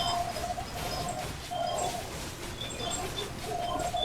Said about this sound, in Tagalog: May ibon ba? May ibon nga.